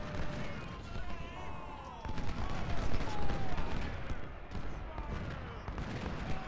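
Massed rifle volleys and cannon fire from a Ultimate General: Civil War battle, a dense continuous rumble of gunfire with sharp cracks and booming shots overlapping throughout, loud and steady with no pauses.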